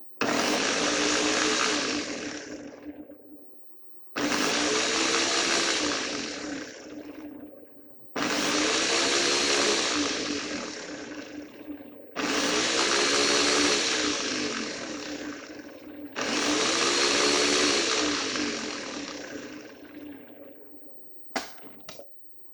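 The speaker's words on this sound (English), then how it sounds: "we'll put it right here on our blender." A kitchen blender whirs loudly in five separate pulses, each starting abruptly and winding down, as vegetables are blended for a mac and cheese and chicken tender cooking demo.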